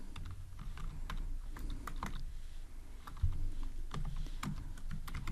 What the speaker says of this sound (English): Let's type again